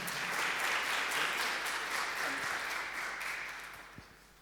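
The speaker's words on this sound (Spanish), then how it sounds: "Así que le damos un fuerte aplauso a Emiliano" Audience applause at a mobile technology conference, a dense steady wash of clapping that fills the room and gradually fades out toward the end, with no talking over it.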